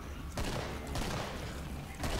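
Gunfire in the video game Killing Floor crackles in rapid bursts and scattered shots, fairly faint and dense, a few sharper reports standing out over the steady noise.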